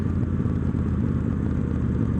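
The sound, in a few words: Victory Judge motorcycle engine compression braking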